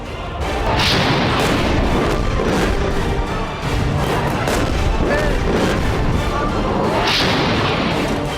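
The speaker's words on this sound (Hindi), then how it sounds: "नागोर्नो काराबाख में बारूदी कोहराम मचाता ये जंगबाज अजरबैजान का मल्टी बैरल रॉकेट लॉन्चर है" Azerbaijani multi-barrel rocket launcher firing in Nagorno-Karabakh: loud, continuous roaring booms and rumbling blasts, with a few sharper bursts, under someone speaking.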